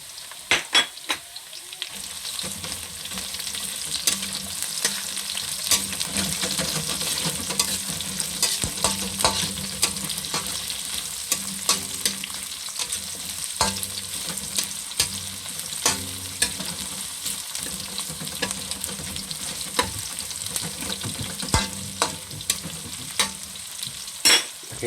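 Sliced onion frying in a pan while baby squid adobo is cooked. It is a continuous close sizzle broken by frequent sharp scrapes and clicks of stirring, with no talking.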